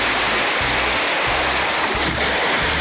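Released water drives a traditional fulling mill. A loud, continuous rush of water fills the scene, with low, regular thumps pulsing underneath.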